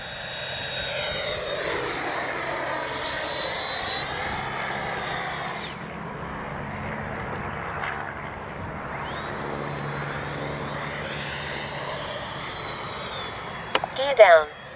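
A Freewing F-22 90mm electric ducted-fan RC jet sweeps past in flight, its high whine rising and falling in pitch as it passes, moderately distant, with a louder bump near the end.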